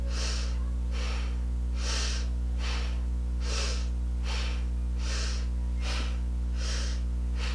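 Rhythmic breathing during kundalini yoga shoulder lifts, about nine steady inhale-exhale cycles with breathy, snort-like bursts over a constant low hum, no talking.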